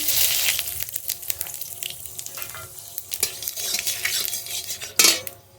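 Panch phoron spices crackle as they temper in hot mustard oil in a wok, short sizzling bursts mixed with metal utensil clinks and scraping, ending in a louder clatter.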